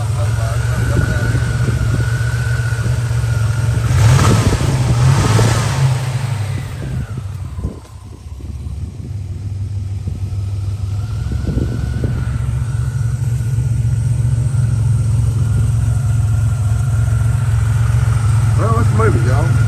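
An abandoned one-owner turbo Buick Grand National with 32,000 miles, smoking from below, runs with a steady low, close rumble and a brief rev, while people talk over it.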